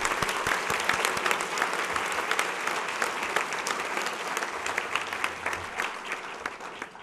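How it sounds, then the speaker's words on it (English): Sustained applause from a banquet audience at a Martin Luther King Jr. humanitarian awards event, dense steady clapping for the full stretch with no voices breaking through. "Let's have a round of applause for my board,"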